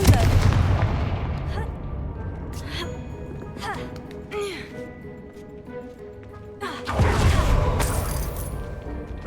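Confringo fire-blast spell explosions in Hogwarts Legacy, sharp booming bursts near the start and again around the middle of the stretch, with loud rumbling impacts, over continuous game effects and ambient noise.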